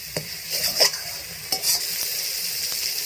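Spice masala for aloo gobi matar being stir-fried in a pan, with a steady sizzle broken by scraping stirs of a spatula, close and clear with no talking.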